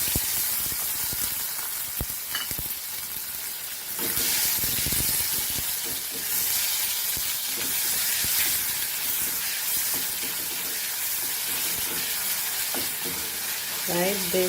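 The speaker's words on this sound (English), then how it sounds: "Fry this nicely." Onion and tomato sizzle and hiss in a hot pan for a beef chili fry, a steady frying crackle broken by occasional scraping stirs, with no talk over it.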